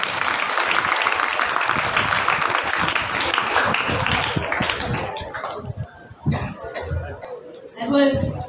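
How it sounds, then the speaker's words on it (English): A school festival audience applauds performers with dense, sustained clapping that gradually thins and breaks into scattered claps, coughs and chuckles near the end. "Please give them a round of applause once again."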